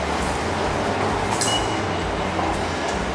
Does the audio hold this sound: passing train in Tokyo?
yes